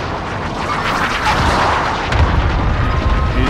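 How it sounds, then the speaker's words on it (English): Cluster strike explosions in Call of Duty: Warzone rumble as a dense volley of booming blasts, loud and continuous, with heavier impacts toward the end. "Allied cluster strike inbound."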